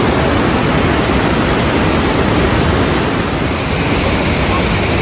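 Kohedagutta waterfall near Hyderabad, running high, roars as a loud, dense, unbroken rush of water close by that fills the whole sound.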